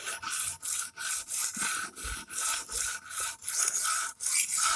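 A chipped Shun kitchen knife is stroked on a 220-grit Edge Pro stone, a steady series of about ten close, gritty rasping strokes with brief pauses between them, no voices.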